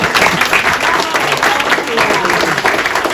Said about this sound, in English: what a great, round of applause for the One Book, One Community Committee